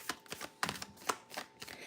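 Oracle cards shuffled by hand during a live reading, a run of soft, quick riffling bursts in an uneven rhythm, close and quiet with no talking.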